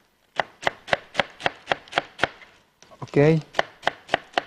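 A knife chops cabbage on a board in a quick, even run of crisp thuds, then a brief scraping rustle and a short spoken word before the steady chopping starts again, close and clear.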